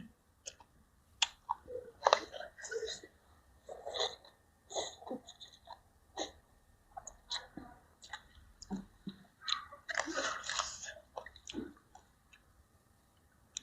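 Close, wet chewing and smacking while eating spicy Thai som tam papaya salad with rice noodles and blanched shrimp, in irregular bursts of quiet mouth clicks and squishes.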